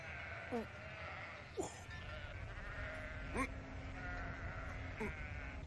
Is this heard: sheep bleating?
yes